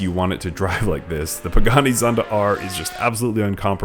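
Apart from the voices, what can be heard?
No distinct noise like a dog, phone or traffic.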